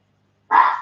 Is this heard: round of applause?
no